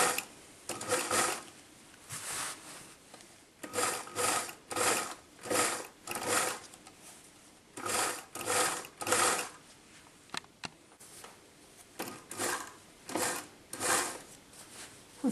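Sewing machine stitching a zigzag seam on fabric for a cape, running in short bursts of fast rhythmic clatter separated by brief pauses, close and clear.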